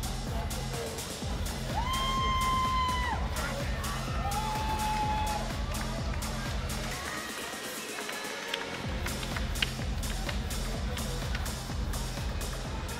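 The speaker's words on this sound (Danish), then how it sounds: "når vi nu er i gang med at klappe den her fantastiske kamp" A live audience at a Muay Thai fight night in Brøndby cheers and claps after a bout. The crowd noise is a steady, broad roar with whoops and shrill tones over it, holding at a fairly even level throughout.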